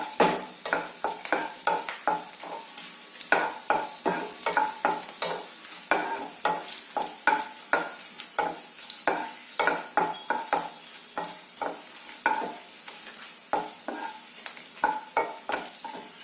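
Kashmiri chilies roasting in hot oil for a vegetable masala curry, a steady bright sizzle broken by rhythmic stirring scrapes, close and fairly loud with no talk.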